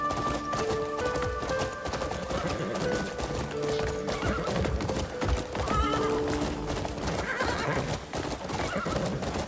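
Quick, steady clip-clop of a galloping horse in the video game Crimson Desert, with a few snorting neighs, layered over music and background game sounds.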